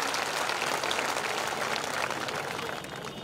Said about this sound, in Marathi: हिंगोली जिल्ह्यामध्ये सर्वप्रथम टाळ्या वाजवून येतात जोरदार आपण स्वागत करूया